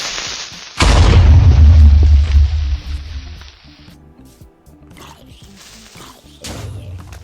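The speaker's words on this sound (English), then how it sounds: "the sound of the Creeper exploding is completely different between the two versions" A Creeper explodes in Minecraft with a single loud, deep boom that decays over a couple of seconds, followed by quieter game sounds and another softer thump near the end.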